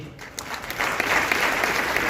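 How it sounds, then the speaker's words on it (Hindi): Hall audience at a direct-selling company event gives steady applause. It starts softly and builds to a dense, even wash of clapping that holds through the end. "एक जोरदार ताली होनी चाहिए आरडी सर के लिए"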